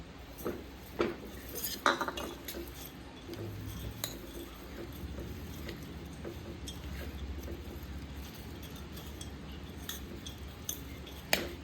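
Homemade bhelpuri tossed with fine sev in a bowl, a spoon scraping and clinking against the dish in scattered taps over a quiet, steady kitchen background.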